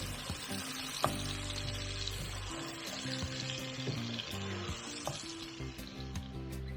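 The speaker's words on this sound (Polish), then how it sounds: "i za chwilę dodam mięso mielone. Wszystko razem będziemy podsmażać." Minced meat and onion frying together in a pan for a lasagne with béchamel, a steady broadband sizzle with occasional stirring scrapes and clicks, close and continuous, no voices.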